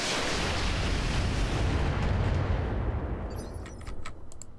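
Heavy weapon fire in the Roguepoint video game, a loud sustained blast of booming, explosive rumble that fades over several seconds, followed by a few faint sharp clicks near the end.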